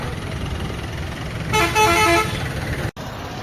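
Street traffic in Munnar, Kerala, with a loud close car or bus horn blaring for about a second amid a continuous engine rumble, then a brief cutoff.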